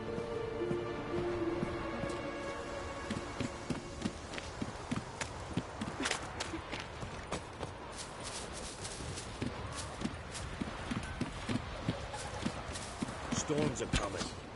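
Horse hooves clip-clop steadily in The Witcher video game, a rhythmic run of sharp knocks under ambient wind and music while characters talk.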